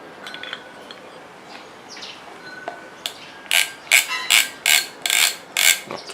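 A Daiwa Millionmax No.6 fishing reel clicks in a quick, even ratchet pattern, the clicks bunched into six or seven short bursts, with faint chirping birds in the background.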